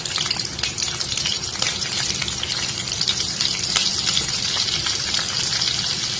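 Small puti fish fry in hot oil in a pan, cooked with cauliflower, giving a dense, continuous close sizzle and spatter with bright crackling bursts throughout and no talking.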